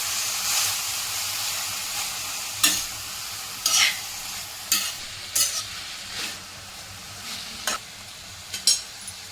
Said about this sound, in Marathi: मेथी टाकायची आहे चांगलं परतून घ्यायचे असं